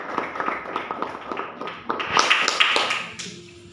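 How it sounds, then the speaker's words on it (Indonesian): Classroom applause: a string of separate hand claps that thickens into a denser burst of clapping before fading, moderately quiet and close. "Tepuk tangan."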